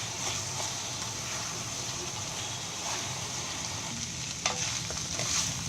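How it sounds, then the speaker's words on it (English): Parboiled basmati rice mixture being stirred in a hot pan, with a steady close sizzle and scraping, stirring sounds throughout and a slightly louder clatter near the end. "And give this a good mix."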